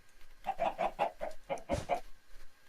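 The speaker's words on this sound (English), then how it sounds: "Maybe the first thing we should mute is these chickens." Chickens clucking in the Minecraft game Agrarian Skies, a quick run of about eight short, evenly spaced clucks, fairly quiet and alone, followed by a brief pause and faint trailing sounds.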